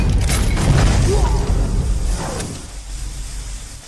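A grenade explosion in an Indonesian action film, a loud broadband boom with a crashing, shattering tail that fades over a few seconds under dense film sound.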